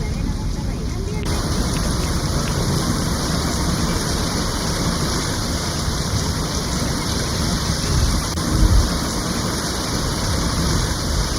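Heavy rain from Hurricane Alberto pouring down in Monterrey, Mexico, a dense, steady roar of falling water that stays loud and unbroken throughout, with water rushing close by.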